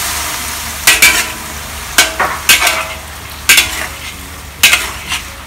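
Chinese stir-fried beef with ginger and spring onion in a wok, with sesame oil and Hua Tiao wine added. A steady sizzle runs under five sharp, loud metal scrapes and clanks of a spatula on the wok, spaced about a second apart.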